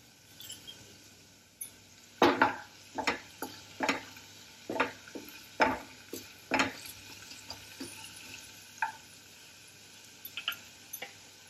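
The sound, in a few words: green chillies frying in a pan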